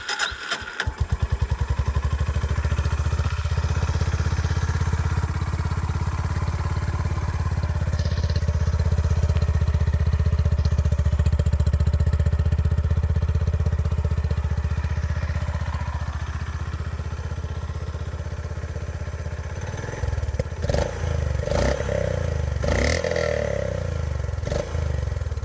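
A Honda CB350 DLX Pro motorcycle's exhaust starts with a cranking burst, then settles into a loud, steady, low thumping idle close by, and ends with a few sharp revs and knocks near the end; no talk.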